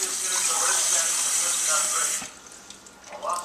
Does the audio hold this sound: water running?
yes